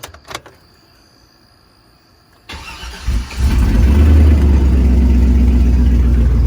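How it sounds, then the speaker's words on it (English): A 2003 Chevrolet Silverado 1500 pickup, just fitted with a new knock sensor, cranks briefly after a few small knocks and quiet, then fires and settles into a loud, steady idle close by. "Fired right back up."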